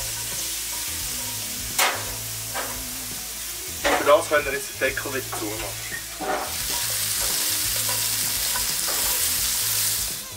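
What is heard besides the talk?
carrots and vegetables searing in a pan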